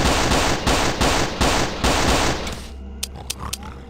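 Rapid automatic gunfire in the horror game Into the Dark, loud and close, with sustained bursts for over two seconds before cutting off, followed by a few sharp clicks and small impacts.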